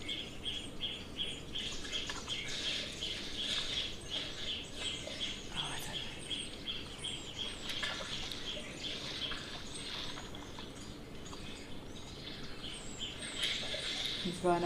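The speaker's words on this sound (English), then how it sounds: "Cape wagtail" Cape wagtail calling at a waterhole, repeated bright chirps and twitters carrying over steady outdoor ambience, fairly near and moderately loud, with other birdsong and faint insect or water noise mixed in.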